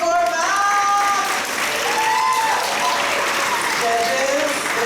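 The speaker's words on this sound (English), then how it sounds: "Keep that applause going for Val!" Continuing applause and cheers from a high school spoken word poetry audience, dense clapping with shouted whoops and excited voices layered over it, sustained and loud throughout.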